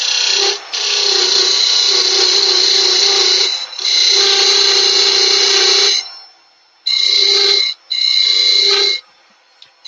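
Wood lathe cutting a tenon on a box blank, heard close and loud as a scraping, hissing tool cut in long passes that break into shorter bursts with brief pauses between.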